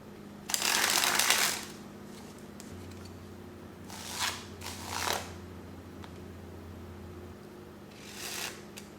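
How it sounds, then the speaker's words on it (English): A deck of playing cards being faro shuffled face-down, heard as a few short riffling bursts of soft papery flutter separated by quiet pauses, close by and without talk. "it's a little more difficult to do a face-down faro"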